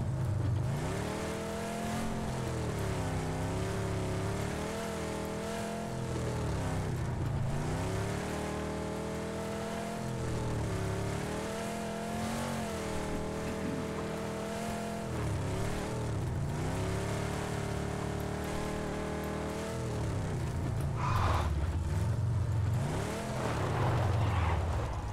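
A car in the battle-royale game PUBG on the Miramar map drives along with a steady droning engine whose pitch rises and falls as it revs and shifts, continuous and fairly close, with no talk over it.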